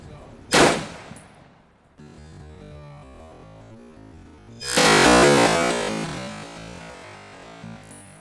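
A 1943 Springfield Armory M1 Garand rifle fires a 30-06 round with a loud, sharp report that rings out, followed later by a second long, roaring blast.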